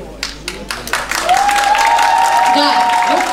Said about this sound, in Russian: Да, вот такие аплодисменты шикарные.